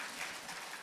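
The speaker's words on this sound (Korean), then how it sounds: "이럴 때 박수치고 아멘 해야 되는데" A church congregation applauding during a Korean sermon, heard as a soft, even patter of clapping from a crowd, faint and continuous, with no voices over it.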